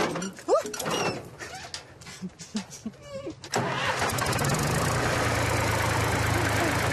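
A rustic vehicle's engine in the Savoie countryside, first heard under speech with knocking and rattles, then a steady, loud, continuous engine roar as it pulls away in first gear.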